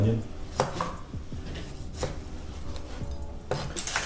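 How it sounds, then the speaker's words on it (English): Food being chopped with a knife on a board while cooking a Mexican meal at home, with a few scattered cutting taps and scraping between them, close and moderate, under faint background noise. "Oh, I don't like chopping"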